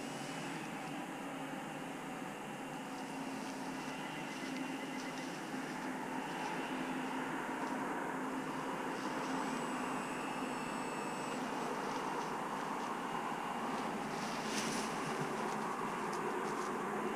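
An FMS RC model airplane flies over grasslands in Beaver Valley, British Columbia, its steady, whining electric motor drone sustained throughout at moderate distance, with faint higher tonal whistles partway through.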